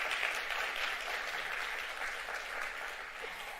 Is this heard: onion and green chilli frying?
no